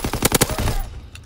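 A rapid burst of STG44 rifle fire in a video game: a string of sharp, close shots in quick succession that breaks off after under a second, followed by quieter game sounds.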